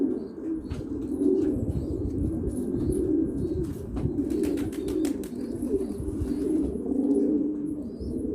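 Pigeons coo in low, rolling, overlapping calls close by, steady throughout, with occasional light clicks and rustles around them and no talking.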